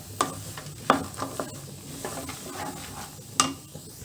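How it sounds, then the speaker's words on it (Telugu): Half a cup of cashew nuts fry in a pan over a low flame, giving a soft, steady sizzle broken by a few light stirring scrapes and clinks, close and quiet. "హాఫ్ కప్పు జీడిపప్పు కూడా ఇందులోనే వేసి వేయించుకుందామండి ఇవన్నీ లో ఫ్లేమ్ లో మంచి గోల్డెన్ కలర్ వచ్చే వరకు వేయించుకోవాలి"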